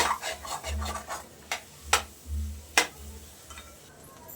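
A spatula repeatedly scrapes and taps through drying egg bhurji in a pan, making rhythmic rubbing strokes with a few sharp metallic clicks, close and fairly loud, with no voices.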